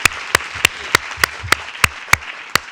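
Applause at an academic workshop heard as sharp, evenly spaced claps, about three per second, with sparse background clapping from a small audience between the louder strikes.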